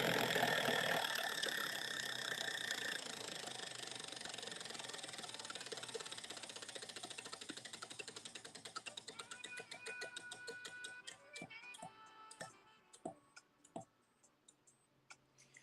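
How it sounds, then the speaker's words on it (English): A prize wheel spins with a whirring rush that turns into rapid ticking. The clicks slow steadily as the wheel loses speed and end in a few sparse, separate ticks. "So here is your wheel spin, Jean."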